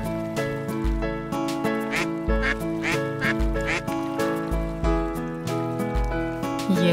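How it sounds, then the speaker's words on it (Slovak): Ducks quack repeatedly in a dense, rhythmic stream, layered over steady musical tones, loud and close throughout. "Jej, kačičky, koľko ich je?"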